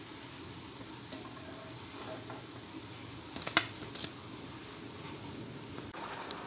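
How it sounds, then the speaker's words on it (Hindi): Aloo tikki potato cutlets fry on low heat in a pan, a soft, steady sizzle with faint stirring and scraping noises and a sharper clink or spatter near the middle. "टिक्की को धीमी आंच पे सेकना चाहिए।"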